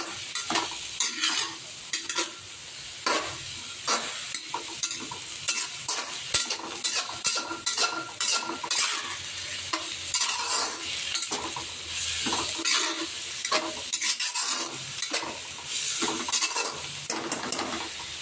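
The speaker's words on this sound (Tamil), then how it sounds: "இப்போ பார்த்தீங்கன்னா நல்லா கிண்டி வச்சுருக்கோம். நல்லா வதங்குற வரைக்கும்" Food being sautéed in a frying pan, stirred constantly with a spoon clattering and scraping against the metal over a continuous sizzle, busy and close, with no voices.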